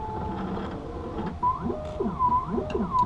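An optical lens edger traces a Ray-Ban 4057 frame, whirring and buzzing mechanically with repeated rising and falling sweeping tones, steady and close.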